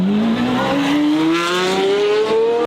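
A Pagani Huayra BC's powerful 750-horsepower engine screams loudly, its pitch climbing steadily as it revs toward 7000 rpm, a close, continuous roar with no talk.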